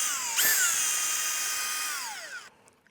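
A power drill backs a screw out of a gate hinge in one whining burst of about two seconds, pitch sagging as it works, then stops abruptly.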